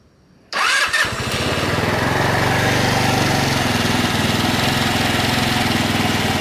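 A small scooter engine cranks and catches after a brief quiet moment, then settles into a loud, steady buzzing run close by.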